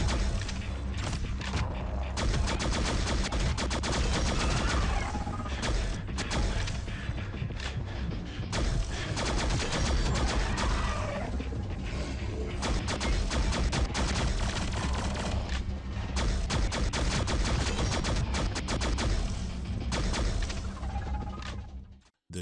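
Steady, dense gunfire and explosions from an Android video game running on a SuperBox S1 Pro TV box, loud and continuous for over twenty seconds with bursts and booms layered throughout and no talk over it.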